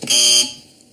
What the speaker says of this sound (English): should any of our panel feel the need to bother with their buzzers today, they sound like this.